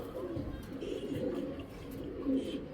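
Pigeons coo over and over with soft, low, throaty calls, close by, among other faint background sounds.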